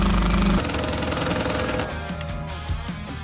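A battery-powered driver runs the last screw into a sheet with a dense, rapid mechanical rattle, loud at first and then a steadier, weaker whirring drive as the battery fades.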